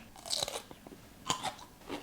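Two crisp crunches from biting into a homemade spicy dill pickle that has fermented for a week, the first bite around half a second in and the second near 1.3 seconds, close and fairly quiet with faint chewing between.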